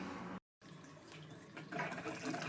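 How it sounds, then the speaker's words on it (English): Water runs steadily from a household tap during a plumbing job fitting an isolation valve, a continuous close hiss that briefly cuts out and then grows a little louder. "we need the water to stop coming out this tap"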